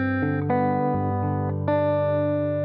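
Electric guitar plays the first bar of the intro to a song, several picked notes ringing one after another and sustaining cleanly with no voices.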